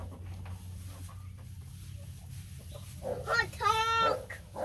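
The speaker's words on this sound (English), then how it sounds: "This chicken's still here." Chicken on a small homestead clucking in a short burst of rising, strained calls near the end, fairly close, over a low steady rumble and faint background noise.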